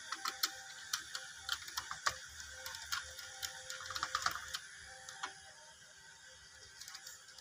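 Screws on a household light switch board being loosened with a screwdriver, heard as a run of small, close metallic clicks and ratcheting ticks that come irregularly and fade toward the end, with no talking.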